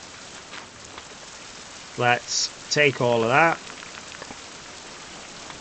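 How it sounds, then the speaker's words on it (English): Rain falls continuously in the survival video game Survival: Fountain of Youth, a soft steady patter running throughout, while someone briefly speaks over it in the middle. "And it's raining again."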